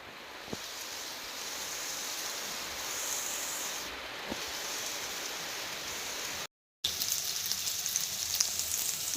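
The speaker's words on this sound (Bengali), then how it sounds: "বাহিরে প্রচণ্ড বৃষ্টি হচ্ছে" Heavy monsoon rain pours down outside, a dense, even hiss of falling water that holds steady throughout, broken by one brief drop-out near the end.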